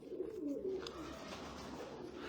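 Domestic pigeons cooing close by in a steady, continuous run of soft low throaty calls, with faint background noise and no talking. The birds are prized black pigeons of the kind bred and traded in Jordan.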